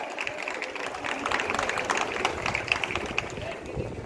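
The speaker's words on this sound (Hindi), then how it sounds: "please have a big round of applause for Asha" Audience applause for Asha at a school farewell celebration: a dense, steady patter of many hands clapping continuously throughout, with some crowd noise mixed in.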